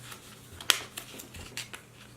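Paper is folded and creased into a paper cube: a sharp crinkling snap, then several softer rustles and taps of the sheet being pressed flat, close and quiet with no speech.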